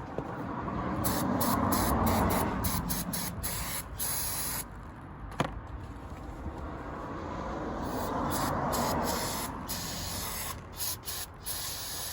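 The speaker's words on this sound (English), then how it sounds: "clean these off with some brake parts cleaner" Brake parts cleaner hisses from an aerosol can in long continuous bursts onto Honda Civic brake pads, with brief pauses between sprays and a small clink partway through.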